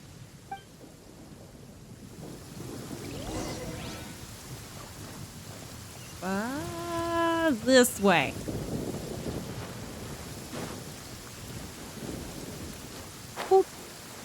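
Steady rain hisses through a stormy scene in the Genshin Impact video game, with a rumble of thunder rolling beneath it and a person talking briefly over the downpour.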